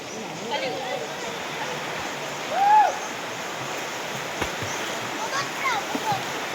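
A river flows steadily with a broad, rushing wash of water and occasional splashes, while people talk and call out over it nearby.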